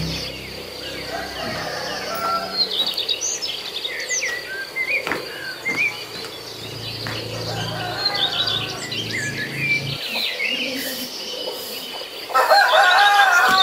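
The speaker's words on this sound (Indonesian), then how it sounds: "Ini anak ayam dan induknya rajin pagi-pagi, lebih pagi daripada manusia bangunnya." Morning farmyard with a rooster, hen and chicks, chicken calls and chirps scattered over a steady insect and cricket drone, with a louder burst of clucking near the end and no speech.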